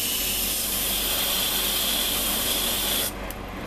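Airbrush or spray can hissing in a steady, close, continuous burst while painting a small plastic part of an Arii 1:20,000 Macross Zentraedi fleet ship model kit, cutting off abruptly near the end, with no talking.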